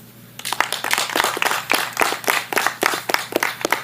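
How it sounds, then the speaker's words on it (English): An audience at an obstacle course racing championship event claps loudly and steadily for several seconds, a dense burst of applause starting abruptly after a quiet moment. "you should give you guys a big round of applause"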